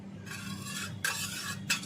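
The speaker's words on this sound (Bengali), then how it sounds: "ভালো করে তেলটা একটু মিলিয়ে নিলাম যাতে তলায় না পুড়ে যায়" Oil gets stirred in a non-stick saucepan over a stove, with quiet scraping strokes and a faint sizzle in repeated sweeps.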